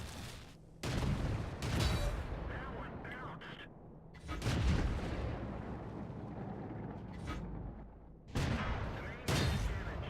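Tank gunfire in a video game battle, with several heavy booming shots and rumbling bursts separated by quieter stretches, while someone talks over the action.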